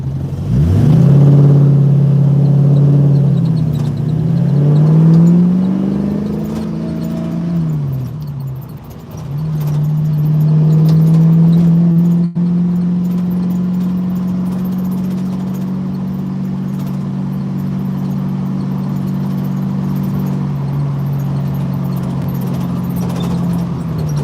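The engine of a 1968 Ford Mustang idles loudly and close, its pitch dipping and wavering as the RPMs drop, then settling into a steady, slightly rising drone.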